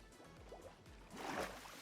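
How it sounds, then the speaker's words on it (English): Splashing and gurgling underwater bubbles as a player dives into water in Minecraft hardcore survival, short and faint, with a brief swell of rushing water near the end. "you got to take a dip into the water"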